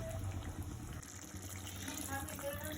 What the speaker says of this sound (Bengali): আর একটু জল দিয়ে দিলাম।